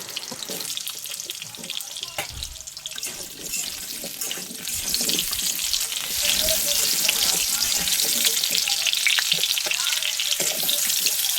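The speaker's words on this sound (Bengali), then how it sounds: "এবারে আলুগুলো ভেজে নেব, একইভাবে সুন্দর করে ভেজে নিতে হবে" Potatoes frying in oil in a pan, a dense, hissing sizzle that swells noticeably louder midway and then holds steady and close.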